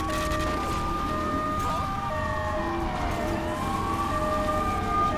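An emergency vehicle siren in the Grand Theft Auto III video game wails in rising and falling sweeps over steady traffic noise, fairly close and prominent throughout.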